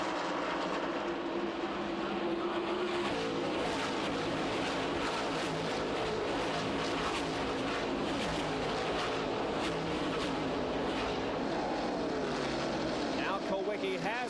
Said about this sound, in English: here comes Mark Martin in car number 6 to try to grab third from Dave